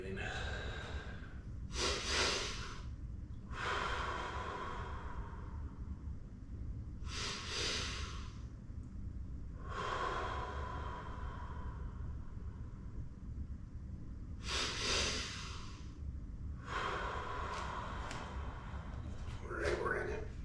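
Heavy, effortful breaths in bursts of roughly one to two seconds from a person holding a plank during a home workout, close to the microphone, with steady low background rumble between exhalations.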